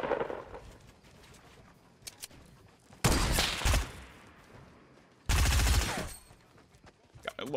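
Two loud, close bursts of rapid gunshots from a Fortnite gun, each under a second long, break out of quiet game ambience, with a few faint clicks and taps in between.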